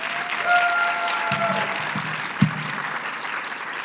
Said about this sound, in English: yes, clap, please